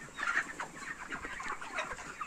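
A crowd of broiler chickens, 37 days old, in a shed of about 4,500 birds clucks and murmurs continuously, a dense overlapping chatter of many birds close by.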